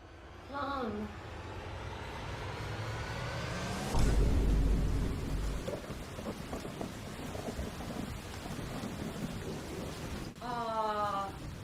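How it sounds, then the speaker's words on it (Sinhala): Steady rain pours outside a home in a continuous, close wash of patter, with a low rumble swelling around the middle, while people talk over it at the start and near the end. "බලහන්කෝ ඉතින් වහිනවනේ."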